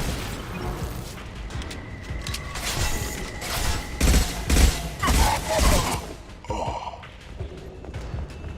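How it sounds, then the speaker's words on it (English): Heavy gunfire in the sci-fi shooter Mass Effect 2 comes as clustered bursts and impacts mixed with mechanical clanks and grunts, loud and close, swelling in the middle then easing, with little speech. "Taking heavy fire!"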